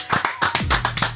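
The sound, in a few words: applause, hands clapping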